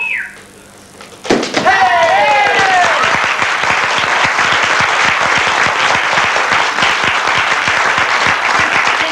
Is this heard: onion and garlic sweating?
no